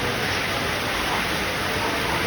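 Heavy rain falls outside in a constant, even wash of noise, close and loud, with no breaks and no one speaking.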